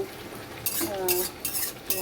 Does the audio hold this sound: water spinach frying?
yes